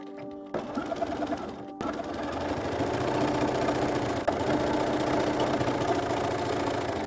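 A sewing machine runs in a steady, continuous whir as it stitches the center back seam of a gothic ballgown skirt, after a short, stuttering start.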